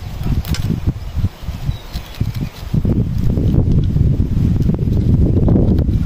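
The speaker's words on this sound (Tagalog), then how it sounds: "Hangin dito." Wind gusts buffet the microphone on farmland being prepared for planting, in a continuous low rumble, with rustling and faint insect-like buzzing woven through it.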